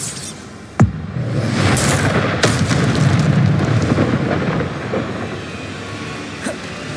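A Bombarda explosion spell in Hogwarts Legacy sets off a sharp, close boom followed by a long rumbling blast and debris, with a fainter crack near the end.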